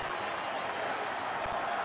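A baseball stadium crowd at a Dodgers vs Giants game applauds and cheers as fans stand, a brief, even wash of clapping and crowd noise heard from a distance.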